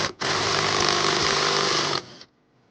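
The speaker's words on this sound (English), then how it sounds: "So let's go ahead and remove this bolt and nut" A power tool whirs loudly and steadily for about two seconds, loosening a bolt and nut on the transmission mount of a Lexus IS300, then winds down to quiet.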